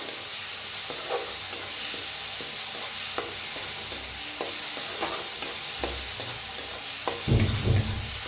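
Mutton with half a spoon of cumin roasting in a pan, a loud constant sizzle with repeated scraping stirs and a heavier clatter near the end.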